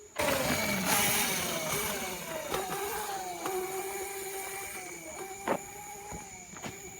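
A kid rides a new small dirt bike around a backyard track, its high buzzing engine revving and shifting pitch at close range, with a few sharp knocks and bumps over the steady whine.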